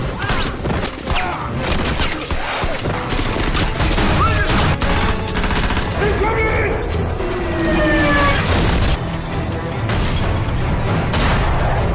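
Dense, chaotic battle noise in a video game with heavy tank cannon blasts and rapid gunfire, loud and continuous, layered with mechanical clanking and crashes.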